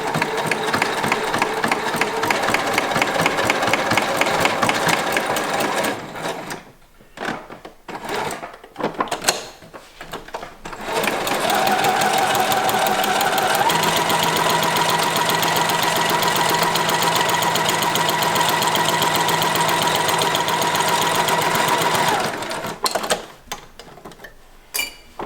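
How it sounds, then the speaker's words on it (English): A sewing machine stitches over the pleats of a fabric mask in long steady runs with short pauses between passes, a continuous whirring hum punctuated by a few clunks as it stops and starts. "stitch over the pleats making sure they don't get pulled apart as you're stitching them"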